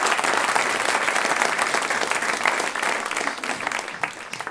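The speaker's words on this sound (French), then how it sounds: "On peut l'applaudir, je trouve. Applaudissons-le." Audience applause at a live comedy show, a dense burst of clapping from the crowd that stays strong throughout and eases slightly toward the end.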